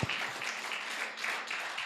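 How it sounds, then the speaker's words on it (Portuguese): Applause from a church congregation during a Portuguese-language revival sermon, a dense, steady wash of many hands clapping at moderate distance, fairly quiet and continuous with no voices over it. "Dê um aplauso a Jesus"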